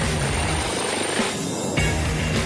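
An AgustaWestland AW139 helicopter flying, its loud, steady rotor and engine roar filling the air continuously without pause, with no voices present.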